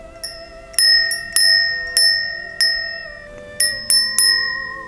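A small bright bell is shaken repeatedly, each strike ringing out clearly with a shimmering decay, close by and alone in a quiet space.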